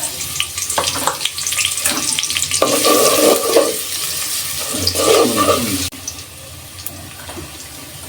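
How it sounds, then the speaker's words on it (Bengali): Raw onions fry in hot oil for haleem, a bright, crackling sizzle broken by bursts of stirring and scraping in the pan, close and loud before dropping quieter near the end. "তো প্রথমে তেল দিয়ে নিই। কিছু কাঁচা পেঁয়াজ দিয়ে দিই"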